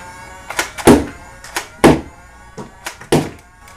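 A motorized Nerf Elite Rayven blaster fires darts in a quick series of hollow thumps with short motor whirs, close and loud, about five or six shots.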